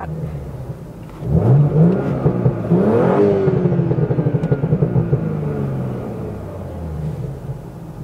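A tuned Audi or Volkswagen engine with a Dynamic+ tune revs hard under throttle, surging loudly upward and then sustaining a deep, close rumble that slowly settles, with no voices.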